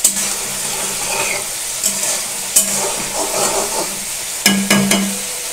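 Chicken kosha fries in oil in a pan, with a loud, close sizzle and occasional sharp metal scrapes and clanks as it is stirred.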